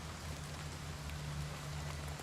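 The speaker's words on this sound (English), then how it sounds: "I like that I can still hear the rain from outside the cave." Steady, soft rain patters from outside a cave in Oblivion Remastered, a continuous even hiss of drops over a faint low hum, with no other events standing out.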